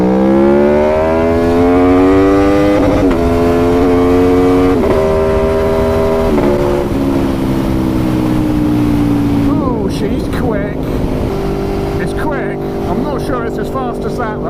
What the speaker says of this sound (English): Oh, listen to that exhaust. It does sound so nice, this, doesn't it?